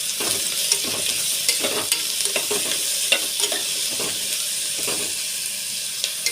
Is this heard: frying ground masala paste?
yes